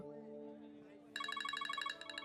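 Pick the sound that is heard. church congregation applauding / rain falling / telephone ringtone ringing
telephone ringtone ringing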